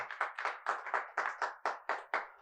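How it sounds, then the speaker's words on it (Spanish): A church congregation claps in a steady rhythm, about ten distinct, evenly spaced claps, faint and without talk. "Dar un fuerte aplauso a si me están entendiendo"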